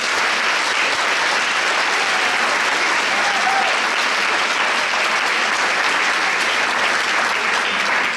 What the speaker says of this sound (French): un autre bonne main d'applaudissements